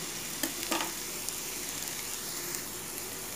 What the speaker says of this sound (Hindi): इसी तरह सारे साइड चेंज करके हम इनको तवे में भी बहुत अच्छे से ये फ्राई हो जाते हैं।